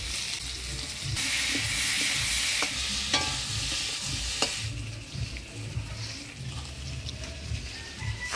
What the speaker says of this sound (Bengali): আলুটা একটু ভাজা ভাজা করে নিলাম